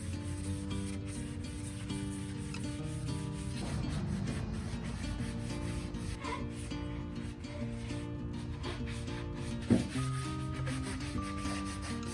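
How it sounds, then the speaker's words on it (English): Steady rubbing and scratching of a 120 grit sanding sponge scuff sanding a painted wooden table, continuous and close with a brief knock near the end, over a faint background hum. "I went in and scuff sanded with sanding sponge and 120 grit"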